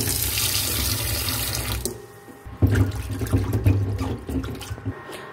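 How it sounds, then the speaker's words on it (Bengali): Puti fish being rinsed under a running kitchen tap, a steady gush of water splashing into the sink with brief interruptions as the fish are handled, close and loud with no talking. "মাছ পরিষ্কার করে ধোয়া হয়ে গেছে।"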